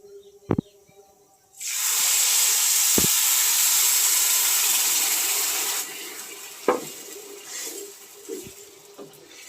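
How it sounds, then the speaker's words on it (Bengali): Water poured into a pot of frying pulao rice brings a loud, sustained rush and hiss lasting several seconds, then it fades to a softer simmer with a few clinks from the utensils. "এবার আমি দেব জল।"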